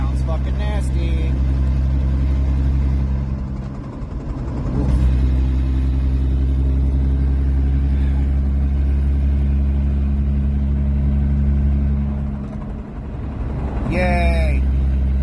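A turbocharged Lexus IS300 drift car on under 10 psi of boost, its engine droning loud and steady at high revs, dipping twice as gears change before climbing again, with a voice briefly heard near the end.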